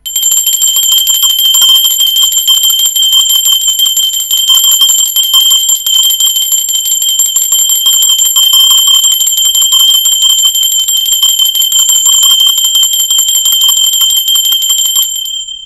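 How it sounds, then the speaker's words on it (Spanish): A bell rings continuously with bright, sustained metallic tones, loud and steady from start to finish. "Mientras suena la campana"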